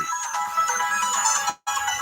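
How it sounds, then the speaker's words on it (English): A phone ringtone plays up close, a bright repeating electronic melody that cuts off abruptly for a moment near the end before resuming. "Hang on, my phone's ringing."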